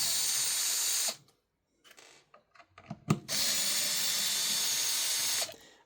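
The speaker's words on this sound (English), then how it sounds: "I'm going to go ahead and use an electric driver." An electric driver whirs in two sustained bursts while backing out screws from a bench grinder during a belt and grinding wheel replacement, separated by a pause filled with small clicks and handling knocks.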